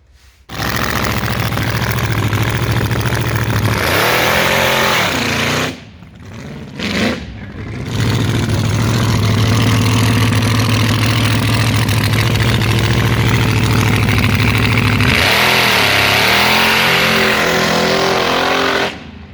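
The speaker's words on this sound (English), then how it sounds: "This motor was freaking roaring" A 1,000-horsepower car engine revs hard and roars at close range, long loud sustained pulls broken by brief drops to a rumbling idle, then another extended rev before cutting off.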